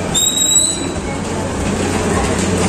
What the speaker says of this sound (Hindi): मल्लार को छोड़ने के लिए चिंचोड़ रेलवे स्टेशन पे